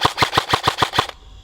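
An airsoft M4 fitted with a hex magazine fires on semi-auto. Seven sharp, evenly spaced snaps follow each other quickly and loudly up close, then stop.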